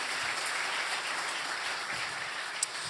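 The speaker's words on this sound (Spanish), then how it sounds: "Can you give a round of applause to him?" A church congregation applauds during a sermon, a steady wash of clapping from many hands that holds even and dense for the whole stretch, with no voices over it.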